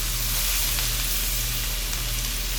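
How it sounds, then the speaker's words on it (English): Salted butter sizzling steadily in a pan over medium heat, a close, even, continuous frying hiss with faint crackles throughout and a low background hum; no talking. "Now we're going to add in 2 tablespoons of salted butter."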